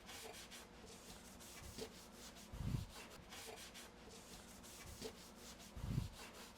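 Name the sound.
scrubbing a Coke machine surface with a Scotch-Brite pad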